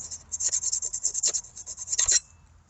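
Rust being scraped off a car battery terminal with a tool, heard as a quick rhythmic series of close, gritty rasping strokes lasting about two seconds before stopping.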